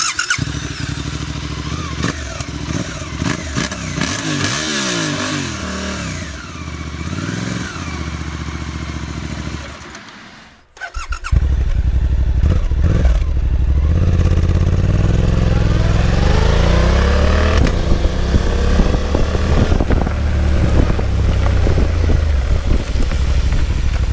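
A Suzuki V-Strom 800 DE motorcycle idles loudly, goes quiet briefly, then fires up and pulls away with a rising, revving engine note that stays strong and close.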